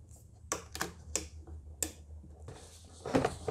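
Hose clamp on a 1.6 TDI Volkswagen Passat air intake being worked loose: a few sharp metallic clicks and snaps spaced irregularly, close and fairly quiet, ending with a louder rattling clatter.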